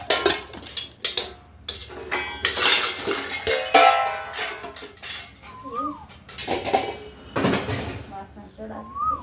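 Pots and metal utensils clatter and clink in a village kitchen while tea is being put on to brew, with irregular close knocks, scrapes and stirring sounds mixed in among people talking.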